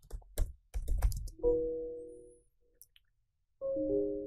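Quick clicks of typing on a computer keyboard while entering a reboot command in Ubuntu, a short cluster of keystrokes followed by two sustained electronic tones separated by silence.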